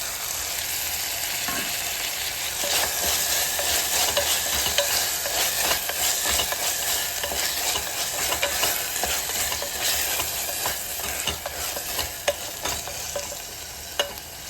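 Chopped tomato and salt go into a pan of frying turnip masala, which sizzles steadily while a spoon scrapes and stirs in frequent close, crisp strokes, with no one speaking.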